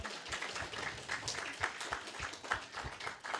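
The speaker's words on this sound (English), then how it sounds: "let's give ourselves a round of applause" Scattered audience applause at a Sunday morning spiritual service, a steady patter of hand claps with no one speaking, moderately quiet and continuous.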